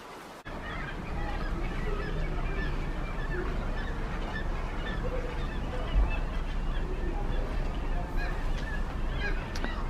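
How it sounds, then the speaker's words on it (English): A large flock of birds near a glacier in Glacier Bay, Alaska honks and calls continuously, a busy overlapping chorus over a steady outdoor rumble. "You hear all those birds?"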